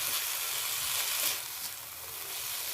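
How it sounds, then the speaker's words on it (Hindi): Shredded cabbage sizzles in hot oil in a pan as a breakfast dish cooks, giving a close, steady hiss that eases slightly partway through. "2 मिनट फ्राई करने के बाद मैं ये इसमें बंद गोभी शामिल कर देती हूँ और इसको भी मैं 1 मिनट के लिए फ्राई करूँगी"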